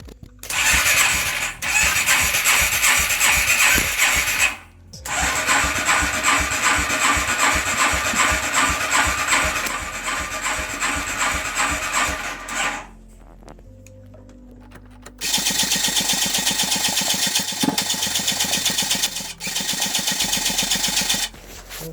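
MTM 62SX chainsaw with a badly stuffed choke being started and run: loud, close two-stroke engine bursts that rev, cut out briefly, then catch again with a buzzing idle and high revving, no talk.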